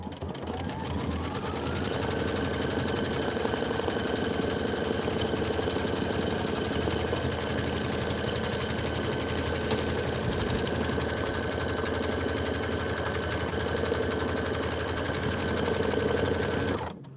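An embroidery machine stitches an outline on a quilted mitten block, giving a steady, fast mechanical whir with a constant rhythmic needle chatter that runs unbroken throughout.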